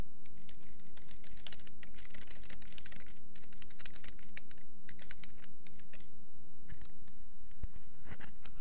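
Rapid, steady keystrokes on a computer keyboard, typing a line of text with irregular clicks and brief pauses, close and clear with no talking.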